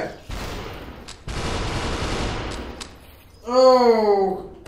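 Rapid gunfire bursts in the VR shooter SuperHot VR, two dense crackling volleys up close, followed by a short vocal exclamation.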